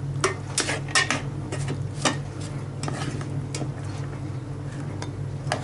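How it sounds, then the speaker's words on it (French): Cooked rice, rested after cooking, is spooned into a bowl with a few light clinks and soft scrapes of the utensil against the dish, over a steady low kitchen hum. "je remplis un bol pour vous montrer"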